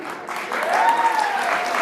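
Applause from a crowd at the Basant Panchami fair at Kanvashram, Uttarakhand, a steady wash of clapping lasting a couple of seconds, with a faint tonal sweep and a hint of voices underneath.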